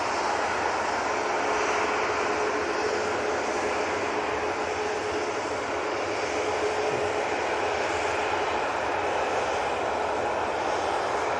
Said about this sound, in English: EasyJet, just touching down now.